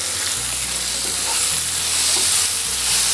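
Chopped capsicum frying in a pan with onion and karonda over a medium gas flame, a continuous loud hissing sizzle holding steady throughout without any talking.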